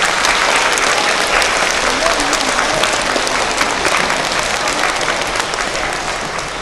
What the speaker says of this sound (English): So if you give them a big round of applause.